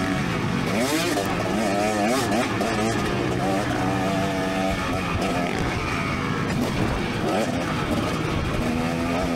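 A 2024 KTM 300SX two-stroke motocross bike is ridden around the Albany MX Park track, its engine buzzing and revving hard with rapid pitch swings, loud and continuous from start to finish.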